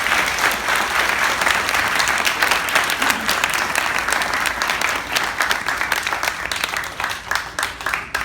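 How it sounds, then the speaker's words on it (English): A church congregation gives a loud, sustained round of applause for a departing pastor, dense clapping from many hands filling the room without a break, easing slightly toward the end. "Let's give him a round of applause."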